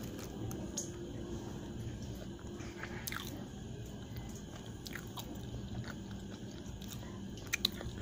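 Close, quiet chewing of a chicken bakpao steamed bun dipped in sweet-sour sauce, with soft bites and faint crunchy, squishy mouth sounds over a low steady room hum, no talking.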